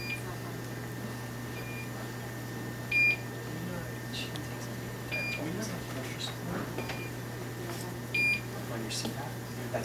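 An appliance gives three short electronic double beeps spaced a couple of seconds apart over a steady low hum, with a quiet voice murmuring nearby.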